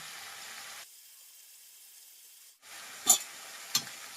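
Boiled lentils tipped into onions frying in oil, then stirred: a soft sizzling hiss broken by a silent pause, then two sharp scraping clinks of a spoon against the pan, fairly close and quiet, with no talking.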